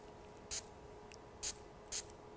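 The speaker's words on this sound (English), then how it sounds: "I'm going to spray it so the bit of Brusho that is there will show up just one spray at a time." A hand spray bottle mists water onto a Brusho mixed-media rhododendron painting in three short, crisp hissing spritzes spaced about a second apart, close and clear over a quiet room hum.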